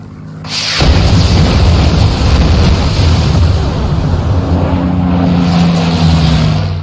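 A rocket strafe in Post Scriptum hits with a sudden loud blast, then a long rumbling roar that lingers for several seconds without fading, no voices over it.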